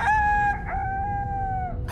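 A rooster crows once in a long, drawn-out cock-a-doodle-doo, loud and close, with a steady low rumble underneath and a brief noisy burst at the very end.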